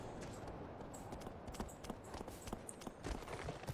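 Horse hooves clip-clop in the video game Shadow of the Colossus, a quiet, irregular run of hoof strikes on the ground, close by and without talk.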